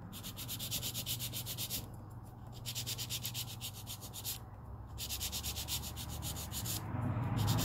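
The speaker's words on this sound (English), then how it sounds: "I'm going to get my 100 grit file and file this line nice and straight." An acrylic nail is filed with a 100 grit file in steady, rhythmic rasping strokes, close and fairly loud, in bursts separated by brief pauses, with no talking.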